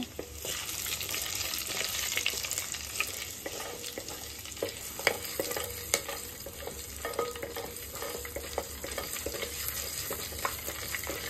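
Whole spices, cumin, dried red chillies, cloves, cinnamon and cardamom, sizzle and crackle in hot mustard oil in a handi, a continuous close fry with scattered sharp pops and stirring scrapes.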